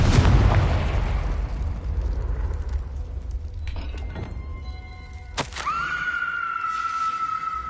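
A Confringo spell blast in the Hogwarts Legacy video game: a loud booming explosion at the start rolls into rumbling debris, then a sharp burst lands midway and trails into a sustained ringing tone, with no talk.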